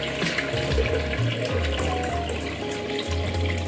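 Water is poured steadily into a hot cooking pot holding rice for Persian chelo kebab, a continuous close splashing rush that lasts throughout with no talk over it.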